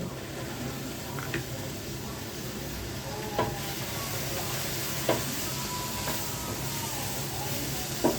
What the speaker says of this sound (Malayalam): നമുക്കിനി തേങ്ങ അരച്ച് വെച്ചത് ചേർത്ത് കൊടുക്കാം